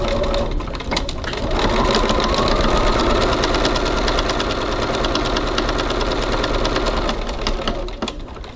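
A sewing machine top stitching a bag seam at a 3.2 stitch length runs in a steady, close, continuous whir of rapid needle strokes, with a brief pause and restart for back tacking before it slows near the end.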